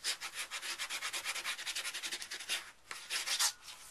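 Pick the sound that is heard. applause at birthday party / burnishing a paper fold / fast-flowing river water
burnishing a paper fold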